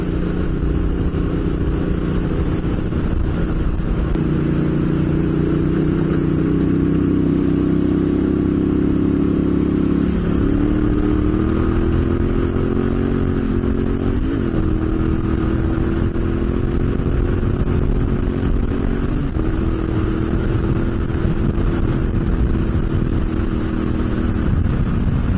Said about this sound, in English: It is much better riding with other bikes